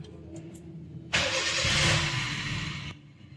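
A car engine cranks and catches with a sudden loud start, then settles into a steady running roar that fades slightly before cutting off.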